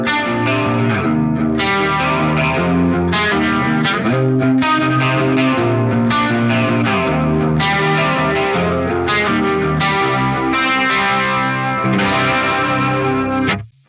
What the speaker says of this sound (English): Let's hear the small clone first as our control.